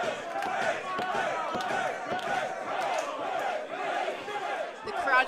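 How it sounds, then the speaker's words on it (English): A bar wrestling audience roars and cheers in a crowded room, a continuous loud swell of shouting and chatter with occasional thuds and slaps from the ring, punctuated by a sharp burst near the end. "The crowd is absolutely erupted."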